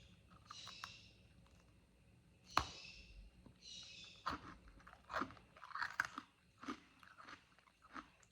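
Close, crisp crunching as small freeze-dried carrot cakes are bitten and chewed, with irregular loud crackles among quieter munching, no talking.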